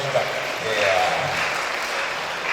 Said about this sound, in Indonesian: Berikan tepuk tangan dulu ketiga pemateri kita